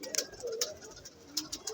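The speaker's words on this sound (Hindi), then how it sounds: "इसे देखो आप गुटकते हुए" Punjabi pigeons cooing in soft, repeated throaty bursts at close range, with several short coos spread across a moment of quiet.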